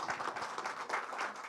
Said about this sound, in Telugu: మనందరం కూడా గట్టిగా క్లాప్స్ కొట్టాలండి ఒకసారి